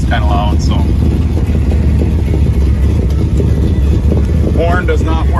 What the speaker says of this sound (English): The exhaust kind of loud,